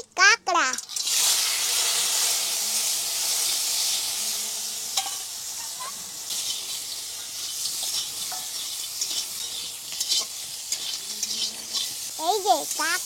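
Crab and cumin seeds sizzle hard in hot oil in a home kitchen, a loud steady hiss that lasts throughout with occasional stirring clinks. A voice and a child's brief chatter come through near the start and again near the end.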